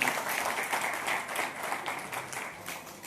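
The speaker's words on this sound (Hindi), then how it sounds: "तो बक्सर के लोगों के लिए पहले मैं जोरदार ताली लगाइए" Loud audience clapping for the people of Buxar at a Lions Club installation ceremony, a continuous wash of applause heard at a moderate distance.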